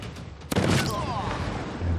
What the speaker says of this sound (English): I love the sound of cannons.